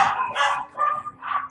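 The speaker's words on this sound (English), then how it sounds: "You don't have to bark every time a door opens." Dog barking in the Harry Potter and the Prisoner of Azkaban PC game, set off by a door opening: three or four short, moderately loud yips in quick succession, with no talking.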